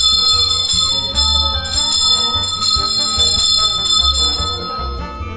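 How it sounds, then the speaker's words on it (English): A bell rings at a pub bar to call last orders, loud and continuous with repeated bright strikes and ringing overtones layered over a busy low background. "you might hear a bell ringing by the bar or someone shouting last orders"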